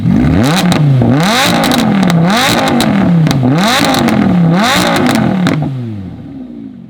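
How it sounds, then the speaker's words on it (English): Sports car engines, a Lamborghini Huracan and a Porsche 911 4S, revved hard in repeated loud blips that rise and fall in quick succession, roaring close up before settling to a lower idle at the end. "Now we're gonna compare the sound revving these cars."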